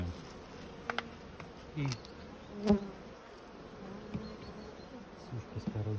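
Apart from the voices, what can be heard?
honeybees buzzing around hive frames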